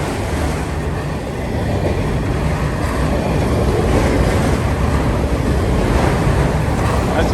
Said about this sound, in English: Only one locomotive is going to be pulling this whole train.